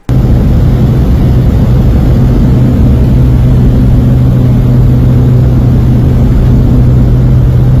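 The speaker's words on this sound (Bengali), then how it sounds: "সিঙ্গেল ইঞ্জিনের ছোট্ট বিমান, বাট নয়েজ, মারাত্মক নয়েজ ছিল" A small single-engine airplane's engine roars in a loud, steady, close drone with a deep pulsing hum, heard continuously from inside the aircraft with no talking.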